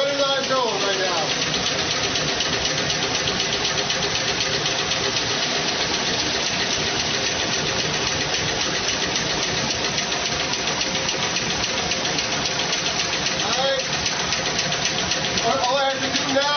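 A self-running turbine generator machine whirs and rattles steadily for the whole stretch, a close, even mechanical drone with a repetitive knocking texture.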